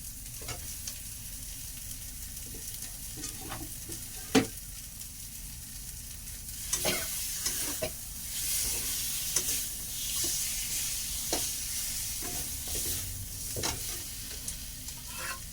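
A fish head fries in a pan with a continuous bright sizzle, stirred by a utensil that knocks and scrapes at irregular intervals, one sharp clank early on, heard close with no one talking.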